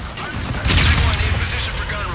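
A gun run in the Call of Duty: Infinite Warfare campaign unleashes a loud, dense burst of gunfire and booming blasts that swells suddenly and then rumbles on. A voice may be faintly present.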